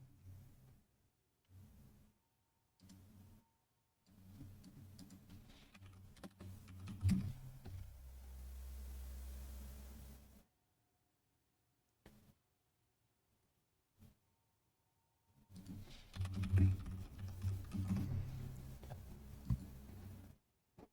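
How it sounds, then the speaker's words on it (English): Keys clatter on a computer keyboard in short bursts and longer runs separated by silent pauses, close and fairly quiet, with a steady low hum partway through. "I was typing it wrong."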